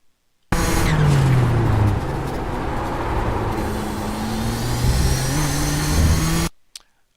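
A sim race car at full throttle around Interlagos, its loud engine note holding steady and rising with shifting harmonic pitch through several gear changes, continuous and close, before cutting off abruptly near the end.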